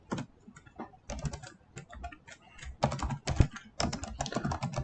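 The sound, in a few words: typing code on a computer keyboard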